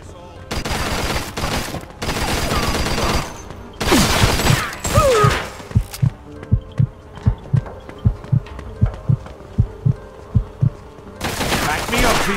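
A Mafia 2 gunfight: heavy bursts of close gunfire, then a run of evenly spaced single shots with loud rapid volleys, and voices call out at times between the shots.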